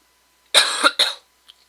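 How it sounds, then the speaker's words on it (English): Two quick, close coughs from a person recording a Minecraft playthrough, the first longer and raspy, the second shorter, followed by quiet. "I'm really sorry about the cough"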